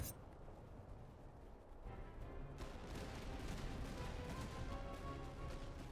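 Massed musket volleys from line infantry in the strategy game Master of Command, a dense, sustained crackle of gunfire with rumbling booms that swells louder partway through and keeps going without talk.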